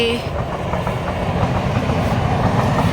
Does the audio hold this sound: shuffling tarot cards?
no